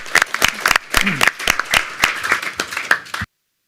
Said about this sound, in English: So I think they need a round of applause too.